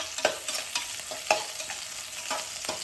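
Green chillies sautéing in a pan for matar pulao, with a spoon scraping and stirring in a rhythm of roughly six strokes over a continuous sizzle, close and fairly loud, no voices.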